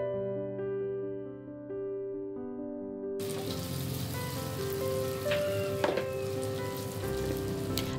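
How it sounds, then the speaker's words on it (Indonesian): Potato and sticky rice snacks fry in hot oil, giving a steady crackling sizzle that starts partway through after soft music and continues close and even, with occasional sharper pops and no talk. "Lanjutkan menggoreng sisanya dengan cara yang sama."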